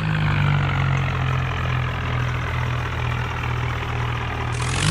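A tractor engine in a farming video game with the tractor stuck in a field. It makes a steady, loud, low idling drone with no talking.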